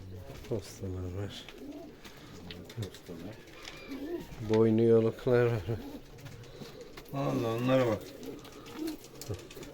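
Birds coo in several soft, throaty phrases, the louder bursts close by, with quieter background sounds in between.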